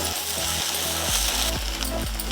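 Boiled corn kernels and paneer fry in a pan with a steady close sizzle and a few brief scraping stirs, fairly loud throughout with no talking.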